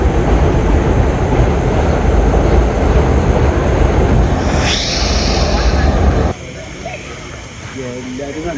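A train near Shoranur rumbles loudly and steadily with heavy low-end rolling noise, then the sound drops away abruptly to quieter ambience.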